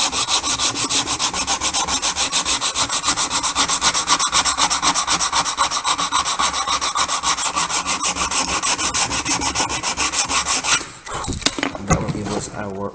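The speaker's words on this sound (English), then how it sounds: "to give that a final smoothing, round sanding block" Wood sanded smooth by hand with a round sanding block and sandpaper, producing rapid, evenly repeated rasping strokes at close range for about eleven seconds before stopping, then a few handling noises.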